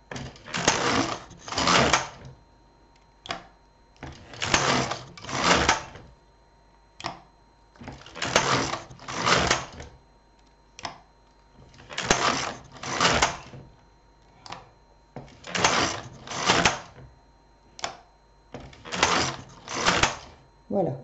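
A domestic knitting machine carriage is pushed back and forth across the needle bed, each pass a loud mechanical clatter in steady pairs of rows separated by short pauses, with occasional soft clicks between.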